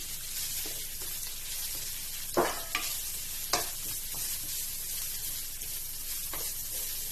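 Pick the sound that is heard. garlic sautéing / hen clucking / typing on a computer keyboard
garlic sautéing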